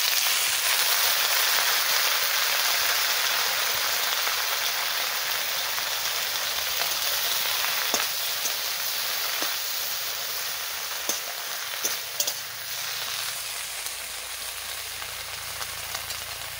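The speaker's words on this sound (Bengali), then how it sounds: "দেখো আমি ভাজা বসাই দিচ্ছি।" Spiny gourd (kakrol) leaves sizzle in hot oil in a pan, a steady close frying hiss with a few small pops and clinks.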